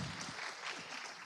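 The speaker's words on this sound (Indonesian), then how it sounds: "Tepuk tangannya dulu teman-teman." Steady applause from a crowd, a continuous wash of clapping at moderate, even loudness with no voices standing out.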